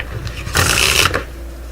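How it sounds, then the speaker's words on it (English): A deck of playing cards is riffle shuffled on a table: one quick, crisp burst of fluttering card edges lasting about half a second, close and alone. "you're gonna pull it off for an in the hands riffle shuffle. Or if you have a table like me, you can just do it on the table"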